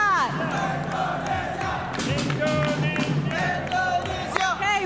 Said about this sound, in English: we got cheering for Indonesia here too